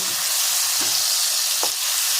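Potato pieces fry in hot oil for Bengali-style mutton, giving a loud, steady sizzling hiss close by, with a couple of faint knocks underneath.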